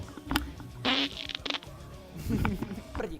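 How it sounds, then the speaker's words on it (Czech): Fart sounds from a burping and farting compilation, a few short buzzy bursts of varying length, fairly close and moderately loud, with people talking around them. "Prdík, toxic."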